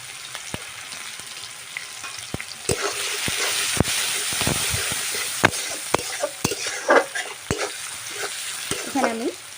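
Chopped onion hits hot oil with whole cumin, a steady loud sizzle and crackle with repeated clacks of a stirring spoon against the pan throughout, no voices.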